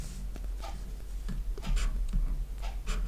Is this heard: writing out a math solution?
yes